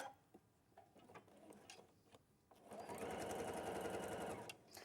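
Sewing machine stitching a quilt piece, starting with a few light clicks and handling noises, then running steadily in a close, continuous mechanical whir for about two seconds.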